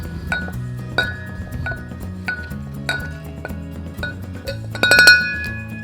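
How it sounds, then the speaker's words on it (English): Blackberries and mint being muddled in a glass with a muddler, heard as a series of close, bright clinks and taps of the muddler against the glass in an irregular rhythm, busiest near the end. "you're gonna get your muddler and you're just gonna squish all that up"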